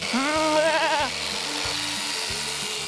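A sheep on a farm where sheep are sheared gives one loud, wavering bleat up close. The bleat gives way to a rhythmic mechanical buzzing, like electric shears running in regular pulses.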